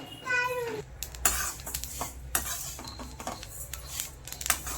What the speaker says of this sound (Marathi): हा पहा सट सटसट आवाज येईपर्यंत छान भाजून घ्यायचे